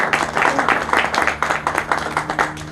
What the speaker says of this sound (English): Please join me in a rousing round of applause.